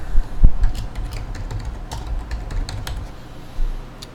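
Fingers typing text on a computer keyboard, a quiet, irregular run of soft key clicks spread across a few seconds, close up with a low room hum underneath and no talking.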